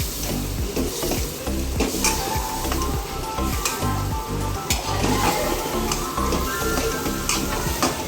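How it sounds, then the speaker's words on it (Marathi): Masala spices fry in a hot pan for a home-style vegetable dish, giving a close, busy sizzle broken up by repeated scraping and stirring strokes. "मिसाले फ्राय करायचं आहे"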